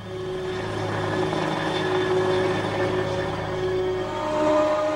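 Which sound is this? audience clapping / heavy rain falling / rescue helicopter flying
rescue helicopter flying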